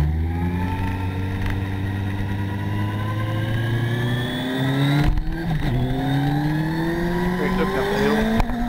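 Motorcycle engines rev hard and climb steadily in pitch as they accelerate, loud and close, with a brief throttle dip midway before pulling away again.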